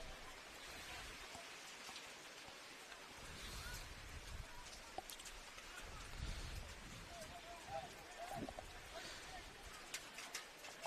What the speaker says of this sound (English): it's teething down with rain, and the wind's blowing a gale